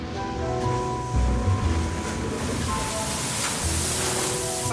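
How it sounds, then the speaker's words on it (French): Heavy seas and strong wind in the Roaring Forties, gusting around 45 knots, roar as a continuous broadband wash of surf and wind noise, close and loud, with intermittent low thumps. "La mer est vraiment très grosse."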